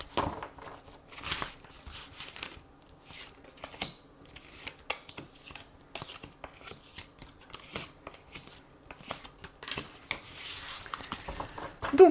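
A deck of tarot cards is shuffled and cards are drawn and laid down, giving a string of soft, close riffling clicks and light slaps in irregular bursts with no talking.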